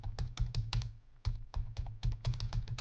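Rapid clicking keystrokes on a computer keyboard while typing code, close and crisp, in quick bursts with a brief pause around the one-second mark.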